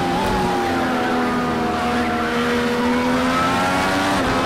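An IndyCar race car in the Project CARS 2 video game drives around Sonoma, its engine droning steadily and loudly throughout with a slowly falling pitch and a brief shift near the end, with no talking.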